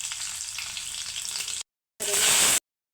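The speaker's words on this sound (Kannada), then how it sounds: "ಬಾಡಿಗೆ ಮೆಣಸಿನಕಾಯಿ ಎಲ್ಲ ಒಂದು 2 ನಿಮಿಷ ಫ್ರೈ ಮಾಡಿಕೊಂಡು" Chillies, mustard seeds and garlic fry in hot oil with a loud, steady sizzle up close, cut off briefly and then resuming in a short, intense burst.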